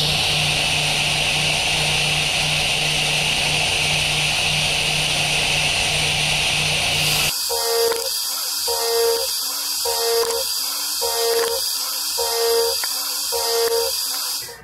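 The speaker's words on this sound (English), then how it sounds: "Here's a look at the VGM doing some helical boring and pocketing." An OSG VGM end mill does helical boring and pocketing. A steady high machining whine gives way to a harsher cutting sound with rhythmic pulses repeating about once a second, loud and close.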